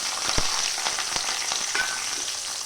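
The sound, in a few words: small onions sizzling as they fry in oil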